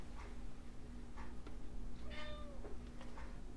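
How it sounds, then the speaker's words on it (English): A pet cat meows several times nearby in a quiet room, short plaintive calls, one drawn out, with a faint ticking and steady hum behind. "Don't mind my kitty."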